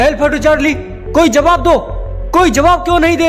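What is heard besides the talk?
No everyday noises stand out.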